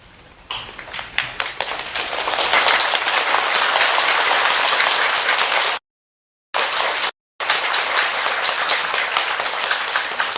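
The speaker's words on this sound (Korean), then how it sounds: "찬탄의 박수 한번 다시 보내주십니다" An audience at a 2011 Buddhist Manjushri empowerment ceremony applauds. Loud, dense clapping builds quickly and holds steady, broken by two brief moments of complete silence.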